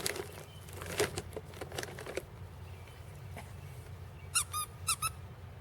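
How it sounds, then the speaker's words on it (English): Squeaky rubber bunny dog toy being chewed, giving a few sharp high squeaks in quick clusters near the end, after a stretch of faint crinkling and shuffling noises. "he likes the squeaky sound. You're Muley. You want the squeaky bunny?"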